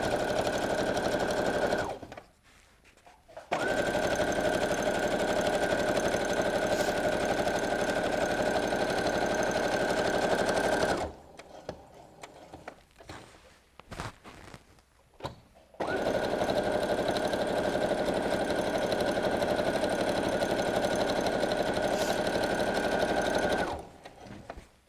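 A sewing machine runs a long basting stitch through fleece batting and fabric for a BBQ utensil roll, in three steady sustained bursts with brief pauses between, loud and close with no talk.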